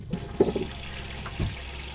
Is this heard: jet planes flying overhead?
no